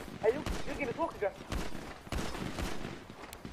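Gunshots crack out repeatedly during a GTA roleplay shootout with a sniper on a rooftop, punctuating steady game noise while voices talk over the firing.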